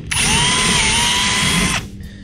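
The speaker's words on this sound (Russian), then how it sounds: "Сверлю дырки и креплю их вот такими кабельбендерами." A power drill whines at a steady high pitch for about two seconds while boring holes in a trailer, close and loud, then stops abruptly.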